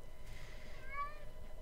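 Minecraft cat meowing twice in quick succession, a soft rising-falling mew over a steady low game-ambience hum, moderately faint with no talk.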